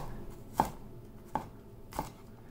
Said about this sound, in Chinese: 切蒜片，